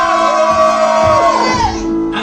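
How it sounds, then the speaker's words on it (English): A live improv show audience cheers for the Tesla and Edison characters, a loud burst of shouts and whoops that holds strong, then thins out just before the end. "Cheer for Tesla and Edison."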